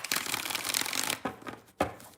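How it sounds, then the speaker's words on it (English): Tarot cards are shuffled by hand up close: a long riffling rustle followed by two short, sharp shuffle bursts, crisp and loud with no talking. "2 more shuffles, 2 more"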